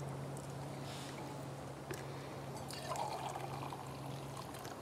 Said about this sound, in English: so I'm only gonna pour a half a cup into it.